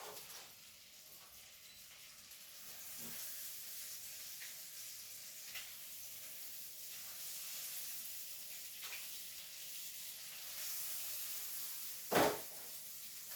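Fresh monkfish liver frying in grapeseed oil in a pan, giving a steady soft sizzle and hiss throughout with a few faint clicks and one brief louder tap near the end, no voices.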